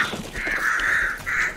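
Crows caw in the video game Hunt: Showdown, a flock giving two long, loud, harsh calls, the second after a brief gap, with no talk over them.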